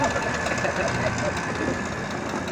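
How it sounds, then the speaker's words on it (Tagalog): A refrigeration and air-conditioning compressor on a student training unit runs steadily, giving a continuous, even mechanical hum and buzz at moderate level with no pauses. "gumana na yung ating compressor."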